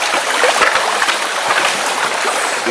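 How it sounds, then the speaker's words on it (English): A river in Jamaica flows toward the ocean, its loud, steady rushing wash filling the whole stretch with no talk heard. "So this river, it enters into the ocean."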